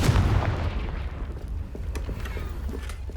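A Confringo blasting-spell explosion in the wizarding game Hogwarts Legacy: a loud, heavy boom that rolls off into a rumbling decay with scattered crackles and pops.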